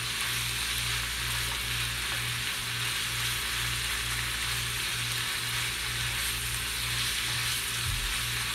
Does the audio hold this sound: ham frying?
yes